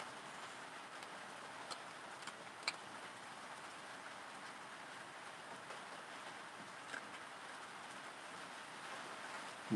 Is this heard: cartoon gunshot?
no